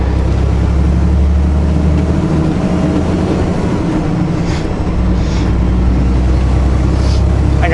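A car driving on a road toward South Tacoma, Washington gives a steady, loud low engine and tire rumble with constant road noise throughout. No voices are heard.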